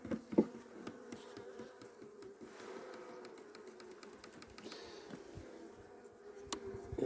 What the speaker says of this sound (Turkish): arı şu an ondan biraz gürültülü